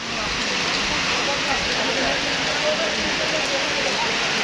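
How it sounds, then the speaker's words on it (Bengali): Heavy rain falls over Faridpur city as a dense, steady hiss of drops striking surfaces, loud and unbroken throughout. "অনেক বেশি পরিমাণ বৃষ্টি হচ্ছে ফরিদপুর জেলায়"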